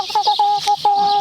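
A backyard chicken clucks in a quick series of short, close, fairly loud calls, the last one drawn out slightly longer.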